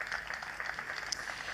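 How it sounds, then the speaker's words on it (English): Audience applause at a political rally in Homa Bay, Kenya, a steady wash of many hands clapping at a moderate distance, even and sustained throughout. "Round of applause for the government."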